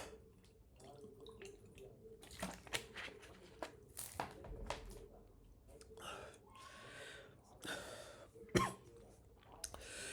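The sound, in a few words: coughing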